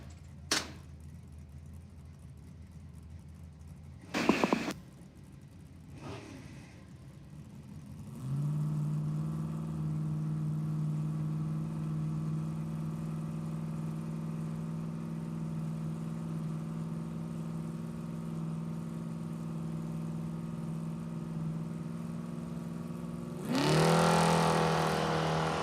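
A 1974 Dodge Dart Sport with a 360-cubic-inch Mopar V8 sits at Numidia Dragway, its engine settling into a steady, droning idle after a few brief bumps, then swelling louder in a short rev near the end.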